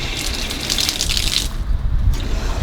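Water gushes hard through newly installed DIY plumbing pipes in a tiny house as air is purged for a pressure test, a loud steady rush with a brief dip midway before surging again.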